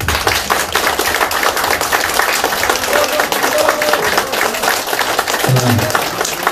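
Dense, continuous clapping from the crowd at a Our Republican Party training meeting for regional organizing committee chairs in Daejeon and Chungcheong, loud and sustained throughout with a few voices underneath.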